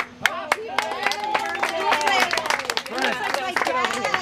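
Guests applaud at a dad's 80th birthday celebration, a burst of scattered hand claps across the room under a mix of voices and laughter, with people talking throughout.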